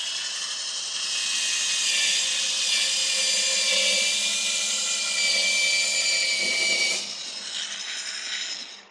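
An electric grill brush scrubs propane grill grates in a steady, loud whirring hiss that holds for about seven seconds, then drops to a quieter buzz.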